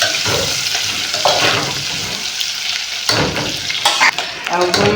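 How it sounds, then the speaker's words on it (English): Liver stir-frying in hot cooking oil in a pot, a steady close sizzle broken by scraping stirs every second or two. "So I'm going to add my liver. I'm just going to stir fry this for a while."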